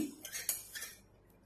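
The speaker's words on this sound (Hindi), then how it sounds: "गर्म पानी में मैं स्पैचुला डुबोऊंगी," A spatula dipped into a cup of boiling water, giving a few faint, light metallic clinks and scrapes against the cup that fade into quiet, with no talking.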